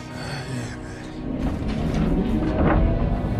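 A bomb-like explosion on a military training ground in a Transformers Bumblebee film: a loud, deep, rolling rumble that swells and grows heavier toward the end, with no voices.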